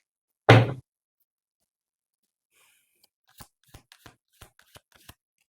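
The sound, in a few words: shuffling and pulling tarot cards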